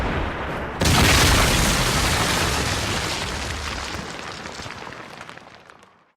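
A tank cannon shot in World of Tanks Blitz hits with a sudden loud boom, and a long rumbling explosion follows that slowly fades over several seconds, with faint crackling debris near the end.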